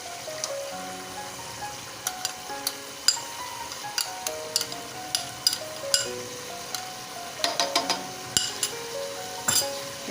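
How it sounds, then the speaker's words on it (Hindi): Yogurt goes into mutton frying in a pan for bhuna gosht, giving a soft steady sizzle with intermittent metallic clinks and scrapes of a spoon against the pan, close and moderately quiet, with music playing underneath. "और ये दही हम अपने गोश्त में डाल देंगे"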